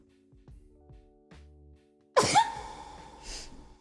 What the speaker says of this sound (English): Oh no, I gotta sneeze